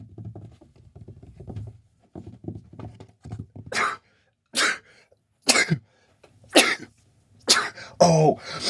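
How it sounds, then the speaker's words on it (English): A person sneezes five times in a row, sharp, close bursts spaced roughly a second apart, after a few soft scratching and rubbing sounds near the microphone. "I sneeze in sets of 5"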